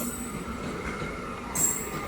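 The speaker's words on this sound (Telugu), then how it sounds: "అదిగోండి ప్లాట్ఫామ్ నెంబర్ 1 మీదకి వస్తుంది చూడండి మెమూ ట్రైన్" The 17269 Vijayawada–Narasapur MEMU special rolls into platform 1 with a steady rumble of wheels. A brief high squeal comes near the end.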